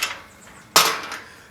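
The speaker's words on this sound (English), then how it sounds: "Just got to navigate through this gate first." A metal gate latch on a Peak District walking route is worked by hand: a sharp clack, a short pause, then a louder metallic clank that rings briefly and fades, close by with no talk.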